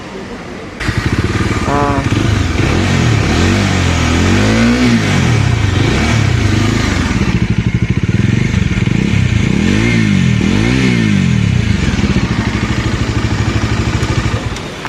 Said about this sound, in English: Now let me start this up and make you hear the exhaust note.